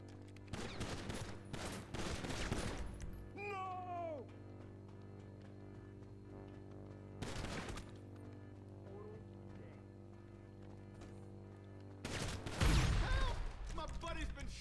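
GTA Online gunfire comes in separate loud bursts of rapid shots, one near the start, another midway and a heavier one near the end, with voices heard between the volleys.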